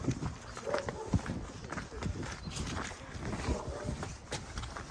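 Hooves of a riding-breed horse clip-clop in an irregular walking rhythm on a farm, moderately close amid busy background noise.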